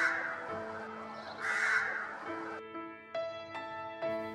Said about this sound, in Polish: Te ptaki to wrony.